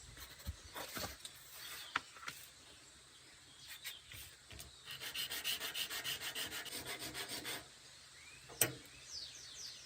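Small replacement carbon brushes for a car air-conditioning fan motor rubbed against sandpaper, a close run of rapid, even scraping strokes mid-clip between scattered handling clicks, with no talking.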